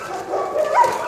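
Dogs at a shelter give a short, close yelping bark with a whiny rise, a single brief burst lasting about a second without speech.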